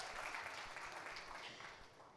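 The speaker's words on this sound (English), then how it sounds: "We can have a slightly louder round of applause, ladies and gentlemen" Applause from an audience at a press conference for a streaming series cast, a steady dense patter of many hands clapping at moderate level, slowly tapering off toward the end.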